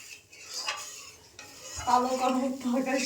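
A utensil stirs and scrapes bean and potato curry in a black wok, with clinks against the metal and a light simmering sizzle, fairly close.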